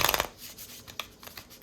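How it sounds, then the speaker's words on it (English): A tarot card deck is shuffled by hand up close: a quick riffling burst at the start, then softer scattered card slaps and shuffles. "I just want to let you know and show you how it shuffles."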